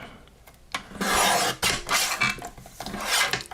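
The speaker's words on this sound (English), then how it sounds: "I'm going to just trim it from top to bottom first" Blade of a paper trimmer rasping as it cuts a craft card from top to bottom: several close, scratchy swipes in short bursts, each lasting under a second.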